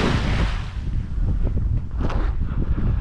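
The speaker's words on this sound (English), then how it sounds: "There's actually a little bit of wind out today" Wind blowing across a cold lake during kayak fishing, a steady rough rush and microphone buffeting that fills the whole stretch with no voices.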